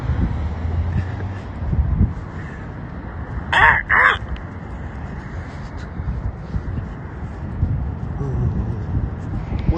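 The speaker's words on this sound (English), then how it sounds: "There's a bird right now." Crow outdoors near an intersection, giving two loud harsh caws in quick succession midway through, heard over steady wind noise and footsteps.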